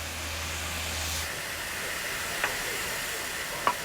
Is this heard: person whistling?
no